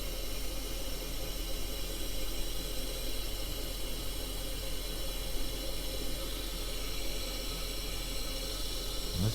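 A toilet fill valve that will not shut off runs nonstop, a steady hissing rush of water flowing continuously at an even level, close and alone without talk.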